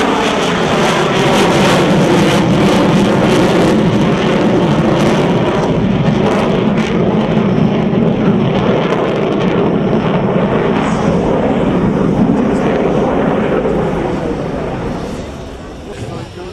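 A light aircraft at an air show roars steadily overhead as it powers round to come in again after an aborted landing, loud and sustained before fading slightly at the end.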